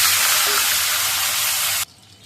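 Fenugreek seeds dropped into hot oil on a high flame, a loud, dense hiss of sizzling that holds steady for nearly two seconds, then cuts off abruptly to a faint quiet.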